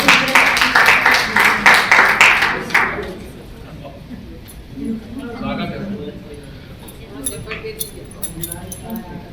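An audience at a poetry recital in Raipur claps loudly and rhythmically to welcome a poet. The applause fades after about three seconds, and a voice then speaks over faint room noise.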